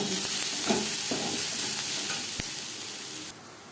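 Onions frying in a pan for aloo paratha, a soft close sizzle with a few stirring scrapes and a sharp tap, fading lower near the end.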